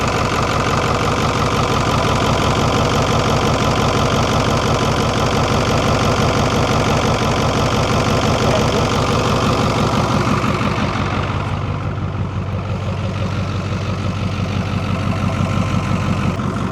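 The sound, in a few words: Ford D1000 truck Cummins V8 engine running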